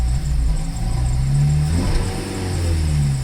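A Toyota Celica GT-S engine with a polyurethane front motor mount insert gets quick throttle blips, the idle rising and falling in short swells, slightly bogging, heard up close without talking.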